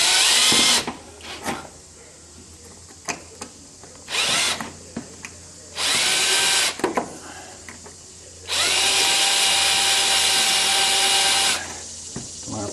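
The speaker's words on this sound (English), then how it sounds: "drill small holes all the way around the edge of this, just through this first piece" Power drill boring a series of small holes around the edge of a vehicle's fan shroud, through the first layer only; several loud bursts of whining drilling separated by pauses, the longest run near the end.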